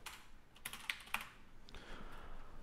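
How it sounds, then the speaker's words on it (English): Quiet typing on a computer keyboard while coding HTML for a web page: a scattered run of light keystrokes with a few sharper clicks, close and soft, with no talking. "I can't type today."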